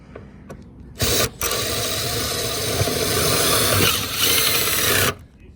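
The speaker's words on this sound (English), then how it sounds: "Install the screw." A power driver spins a screw into metal gutter hardware during installation, a loud continuous whirring grind of about four seconds with a brief stop near the start, heard alone.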